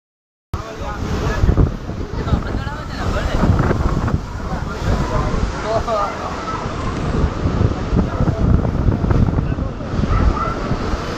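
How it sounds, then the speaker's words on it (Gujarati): Strong wind roars into the microphone over the continuous crash and surge of rough sea waves, loud and steady throughout. "અત્યારે આ જો પવન નો આ દરિયો ઉધાન થઈ ગયેલો છે જોઈ શકો છો"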